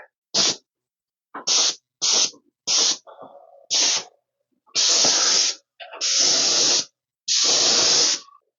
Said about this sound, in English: I've decided just to use my yellow sprayer. Let's spin it around.